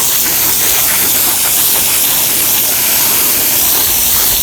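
Steady, loud hissing spray of water from a car wash foam gun rinses bleach off an asphalt shingle roof, running without a break, a continuous rushing wash with no voices.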